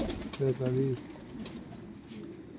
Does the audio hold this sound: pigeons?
yes